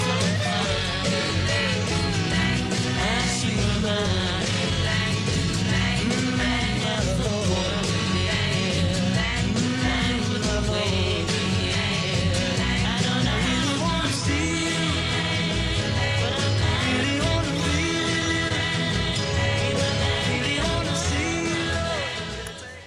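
Two songs play at the same time, tempo-synced with one song in each stereo channel, making a dense, continuous blend of pop band and vocals with no pauses.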